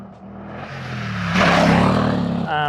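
A KTM 890 Adventure R motorcycle exhaust revs up in one swelling, raspy roar that peaks and holds, then settles into a steadier drone, close and loud.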